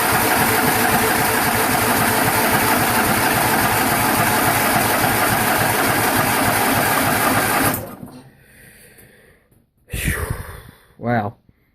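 A John Deere 210 lawn tractor engine, freshly fueled with the throttle about halfway up, runs loud and steady for several seconds with a rapid mechanical clatter, then cuts out, followed by a couple of brief rustling bursts.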